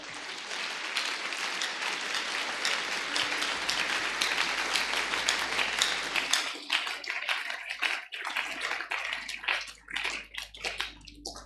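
A church congregation applauds in a sustained wash of many hands clapping, loud and dense at first, then thinning into scattered claps toward the end.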